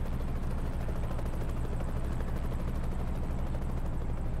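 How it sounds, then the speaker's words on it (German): Helicopter in the truck-driving game Trucks & Trailers, a steady droning rotor wash with constant low thrum and broad noise, holding at even loudness throughout with no talk. "Oh nice, ein Helikopter."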